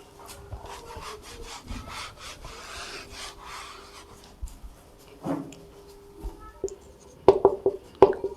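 Writing is rubbed off a board during a maths lesson in steady, scratchy strokes that repeat in a quiet rhythm. The rubbing is close but faint, and a few sharper taps come near the end.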